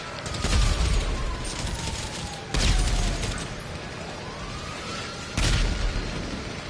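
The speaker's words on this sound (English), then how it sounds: "explosions." Deep booming video game explosions hit at intervals, three heavy blasts with rumbling between them and a faint whining tone sliding underneath.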